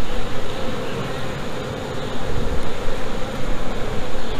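Open honeybee hive during inspection, with a dense, steady swarm of buzzing close by and continuous at moderate loudness, alone without talk.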